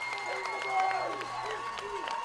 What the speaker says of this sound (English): the crowd is loud. They got their noisemakers going